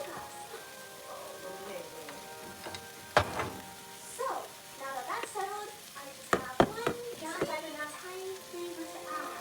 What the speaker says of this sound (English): I was just overly stirring at this point, just to give it some different action.